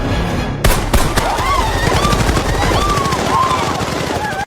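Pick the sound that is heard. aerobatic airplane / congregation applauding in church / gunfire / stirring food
gunfire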